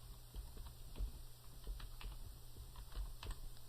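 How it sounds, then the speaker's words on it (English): Quiet, steady typing on a computer keyboard as a search keyword is entered into a help search box, light clicks pattering at an even pace with no talk. "so I'm going to type that in."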